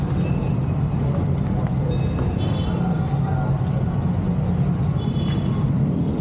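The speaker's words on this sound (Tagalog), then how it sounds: "Traffic pa ro." Continuous low rumble of road traffic on a busy street, with engine drone and faint higher tones passing through, steady and fairly loud throughout with voices mixed in.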